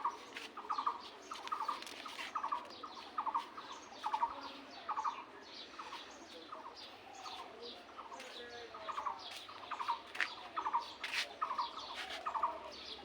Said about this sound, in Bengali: পাখি কিচিরমিচির ডাক তো আমি শুনবই বাগানে আসলে